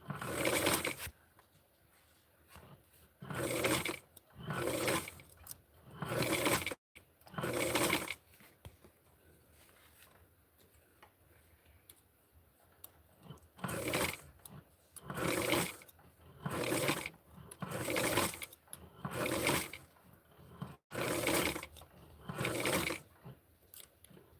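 A sewing machine stitches a secondary line along the ruffle of a small Barbie doll dress, running in repeated short bursts of a few seconds each with brief pauses between them, close and fairly loud, with no talking.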